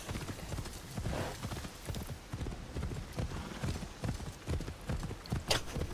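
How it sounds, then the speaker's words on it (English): A horse gallops in Assassin's Creed Shadows, hooves beating a steady fast clip-clop over a rough ground, continuous and close, with a brief whinny-like accent near the end. "Oh, so at least the horses are fast."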